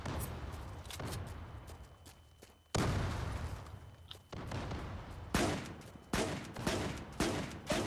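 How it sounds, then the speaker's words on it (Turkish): Shooter gunfire in the Zula video game, loud bursts and single blasts that hit hard and then trail off, coming in clusters over about eight seconds, with no talking. "Adam nasıl sıkıyor be lan?"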